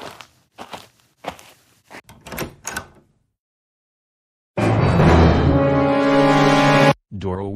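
A door in a Roblox game: a few soft knocks and thuds, then a loud, sustained creaking tone that runs for over two seconds before cutting off abruptly.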